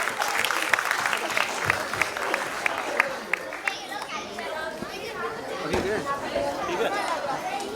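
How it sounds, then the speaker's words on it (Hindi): An audience at the Indradhanush 2023 programme claps for a guest called onto the stage, sharp claps thinning out after a few seconds into crowd chatter and children's voices, with talk over the top. "मिस उषा छाबरा मैम के लिए एक बार जोरदार तालियां बजाएं प्लीज।"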